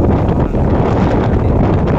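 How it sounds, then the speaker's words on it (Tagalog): Steady, loud wind buffeting the microphone, a dense continuous roar with no pauses or voices. "Ito na kasi lakas yung hangin dito."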